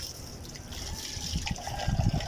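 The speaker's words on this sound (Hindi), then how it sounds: "ये अच्छे से मेरे पानी टैंकी से पानी आ रहा है, प्रेशर है" Pressurised water from a tank flows into a large vessel, a steady splashing trickle that builds slightly louder and fuller toward the end.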